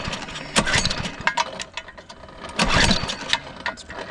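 A 212 engine on a minibike being started, with several sharp bursts of cranking and sputtering firing in irregular rhythm, close and fairly loud.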